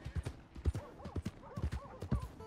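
A horse in Red Dead Redemption 2 trots with a rhythmic clip-clop of hooves, several distinct footfalls, while a soft whinny rises briefly in the middle and again near the end, fairly quiet overall.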